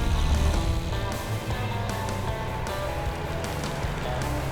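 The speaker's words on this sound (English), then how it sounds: "Much throatier engine, isn't it?" A big Buick engine in a traditional hot rod idles and runs with a deep, throaty low rumble, steady and close throughout, with no talk over it.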